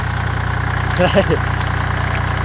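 A water pump engine runs steadily beside a rice field, drawing water with a loud, close, continuous low throb, while a voice briefly speaks over it.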